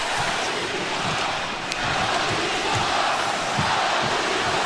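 The crowd in a hockey arena at a Vegas Golden Knights versus Toronto Maple Leafs game keeps up a steady roar of cheering throughout, broad and continuous. One sharp knock stands out partway through.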